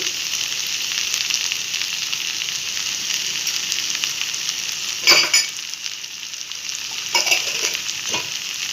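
Okra pieces frying in ghee, a steady close sizzle running throughout, with two short bursts of spoon-against-pan stirring scrapes partway through; no voices.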